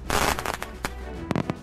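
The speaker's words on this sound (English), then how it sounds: "This firework slaps, Charm." Fireworks burst close by, a loud crackling rush at the start followed by several sharp separate bangs, with a quick cluster of pops near the end.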